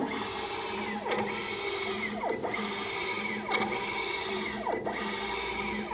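Condor XC Mini laser engraver running its x-axis self-test, its stepper motors whirring steadily with repeated rising and falling sweeps about every second and a quarter as the gantry shuttles back and forth.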